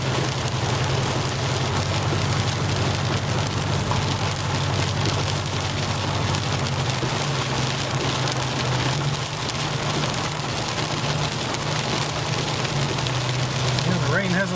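Heavy rain pours steadily and loudly onto surfaces during a micro-burst wind storm on flooded streets, a dense unbroken roar lasting throughout with a low engine-like hum underneath.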